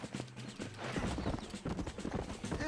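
Horse hooves clip-clop in Red Dead Redemption, a steady rhythmic beat of several footfalls that continues throughout, fairly close and clear with no talk over it.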